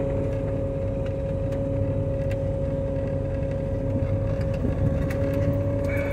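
A small-block Chevy 383 stroker engine idling with a steady, deep, even rumble and a constant tone, close and loud, heard alone throughout.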